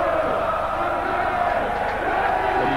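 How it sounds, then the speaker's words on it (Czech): A stadium crowd at FC Baník's 2004 championship trophy presentation roars and applauds the team's football coach, a dense, steady wall of cheering that holds at full volume throughout. "tenhle potlesk, který slyšíte, patří muži, který stál celou sezónu na trenérské lavičce"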